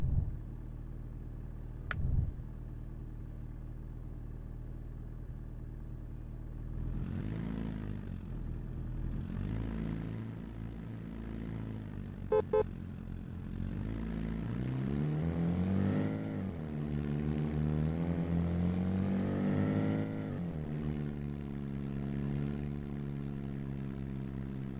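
A taxi car engine from the driving game Taxi Sim 2020 rumbles steadily, then revs up and down in rising, falling sweeps of acceleration, loud and continuous with no talking.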